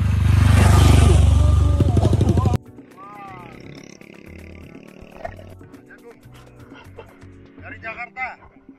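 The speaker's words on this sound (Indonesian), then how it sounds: "Motor kencang awas." A fast motorcycle roars past close by on a mountain-slope road on Gunung Sumbing, a loud engine burst for about two seconds that cuts off abruptly, followed by quieter road ambience with faint engine hum.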